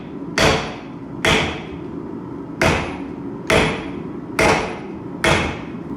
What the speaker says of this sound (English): I'm using a super heavy hammer